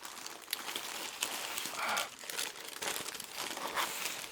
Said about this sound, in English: just let me unwrap this